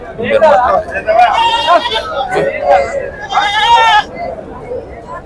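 Large male goats bleat repeatedly at a busy weekly livestock market in Pebbair, loud nearby cries rising over a background of crowd chatter and people talking.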